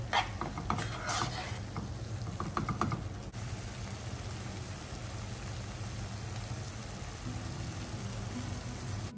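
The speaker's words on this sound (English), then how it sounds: "Cover and cook until the tomatoes turns mashy." Chopped tomatoes cooking with paneer masala spices in a covered pan, a low steady sizzle and bubbling, with a few utensil clinks near the start, then an even quiet simmer.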